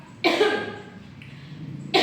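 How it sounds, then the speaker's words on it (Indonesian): Two sharp coughs from a nearby person, one near the start and another at the end, with a quiet pause between them. "maaf ya Ibu batuk."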